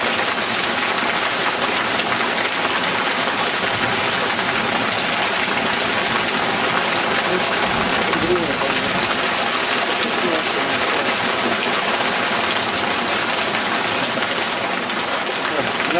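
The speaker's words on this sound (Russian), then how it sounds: "Вот это гроза!" Heavy rain pours down during a thunderstorm with hail falling on the ground, a dense, constant broadband hiss and patter that stays loud and unbroken, with a voice speaking briefly over it.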